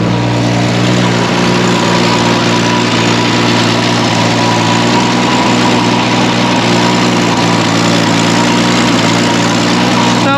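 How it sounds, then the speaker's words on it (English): A Jeep engine idles with a small exhaust leak, a loud, steady, continuous rumble with a mechanical hum throughout and no voices. "Sounds like it's got a little exhaust leak, which I'm not surprised at."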